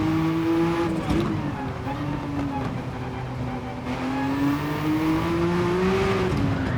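Porsche GR1-class race car engine in Gran Turismo 7, held at steady high revs, then a brief throttle lift and straight back on, with rising pitch sweeps from a close, loud engine throughout.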